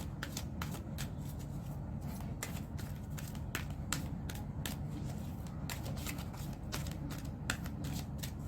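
Tarot cards are shuffled close and quietly in a steady run of soft riffling flicks over a low background hum, with no talking.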